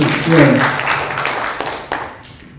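Loud, sustained crowd applause in a hall during a televised policy debate among Daejeon education superintendent candidates, gradually fading toward the end with a voice faintly heard.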